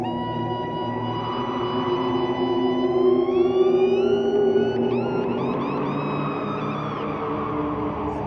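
An electric guitar, played through a wah-wah pedal, makes seagull-like cries in a live 1971 Pompeii performance: gliding, whale-like squeals rise and bend over a sustained droning band, with no voices.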